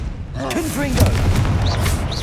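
A Confringo blasting spell explodes in Hogwarts Legacy, a close, loud boom with crackling blast noise that rolls out over rumbling game background, with a voice and short game tones laid over it.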